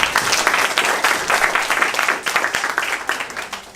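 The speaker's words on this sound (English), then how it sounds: "a round of applause for Ryan" An audience at a spring magic show applauds a performer named Ryan, loud, dense clapping that stays fairly even throughout with a slight rise and fall in intensity.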